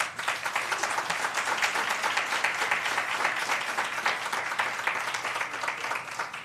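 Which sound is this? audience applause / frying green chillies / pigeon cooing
audience applause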